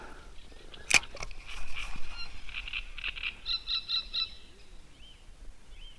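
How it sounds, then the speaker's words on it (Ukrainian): Outdoor birdsong on a quiet, windless evening with pheasants calling, a sharp close chirp early on and repeated bright, rhythmic calls a little farther off, over soft background noise. "Вітру немає, пташки співають, фазани кричать."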